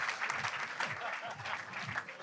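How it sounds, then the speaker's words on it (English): An audience applauds the panel at a live rugby show, a brief, moderately quiet burst of dense clapping, with a voice partly over it. "we give an enormous round of applause to Shane, to Ben, to Tins and Hask"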